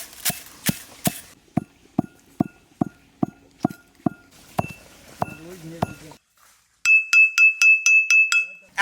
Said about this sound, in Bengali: এখন হামানদিস্তায় গুঁড়ো করে নেব।